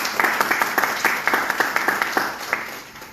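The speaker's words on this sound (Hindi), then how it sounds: "एक बार जोरदार ताली होनी चाहिए।" An indoor audience at a business seminar on direct selling applauds in a steady round of clapping, with rhythmic accented claps standing out and no one speaking over it.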